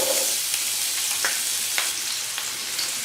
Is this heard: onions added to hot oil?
yes